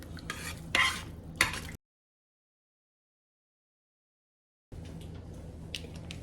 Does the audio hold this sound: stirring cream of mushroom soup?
yes